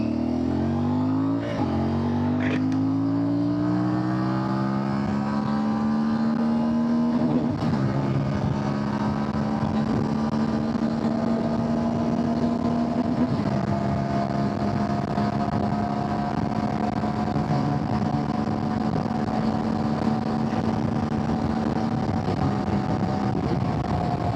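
A CFMoto 450MT motorcycle accelerating on an open road, engine pitch climbing through gear changes then settling into a steady drone, with continuous wind rush close to the rider.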